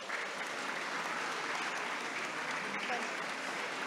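Steady applause from an audience at a Giacomo Puccini centennial celebration, continuous dense clapping at moderate distance with a faint voice underneath.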